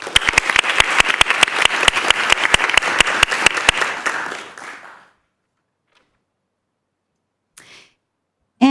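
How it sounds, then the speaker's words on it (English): A school board meeting audience claps to congratulate an Eco Schools recipient, with brisk, close applause for about four seconds that then fades to near silence, followed by a brief faint rustle. "a round of applause to congratulate Stephanie"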